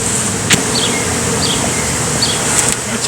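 Honey bees hum steadily around a brood comb section, a continuous close buzz with a few brief higher flickers as individual bees pass near.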